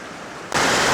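Gooseberry Falls' middle waterfall rushes as a broad, steady hiss that is quiet for half a second and then swells suddenly into a loud, close roar.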